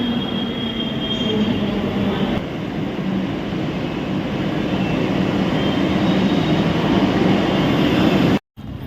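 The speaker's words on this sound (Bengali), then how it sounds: "ওই দিকের মেট্রো তো এসে গেছে" A metro train rumbles loudly and steadily close by, with faint wheel squeal over the roar, then a brief dropout near the end.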